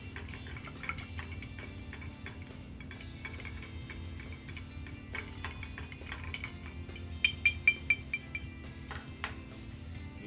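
Whiskey cocktail with bitters stirred in a glass: quiet, steady clinking of a spoon against glass over a low hum, ending in a few sharper clinks.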